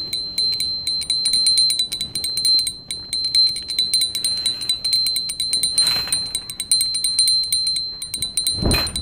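A small hand bell rings steadily through a Narasimha aarti at a household shrine, giving a bright, fast, even ringing that runs the whole time with a couple of louder knocks.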